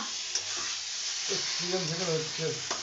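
Chicken frying in a pan at home, a steady close sizzle and hiss with occasional stirring, while voices talk over it.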